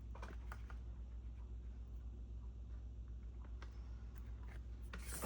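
Scrapbook paper sliced with a paper trimmer, faint scratchy rubbing strokes and a few soft clicks over a low steady hum, quiet and close, with no voices.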